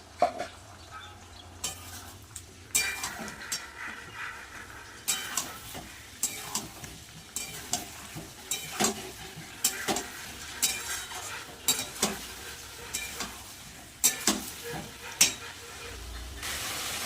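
Fried potatoes turned in a pan with a paste of ground ginger, cumin, dried chili and tomato, a steady sizzle broken by repeated clanking spatula strokes against the metal, close and fairly loud.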